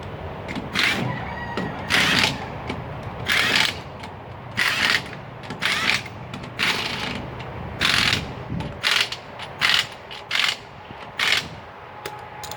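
An Ingersoll Rand half-inch drive titanium air ratchet tool working nearby in repeated short bursts of rapid clicking and whirring, separated by brief pauses, moderately loud with no talking.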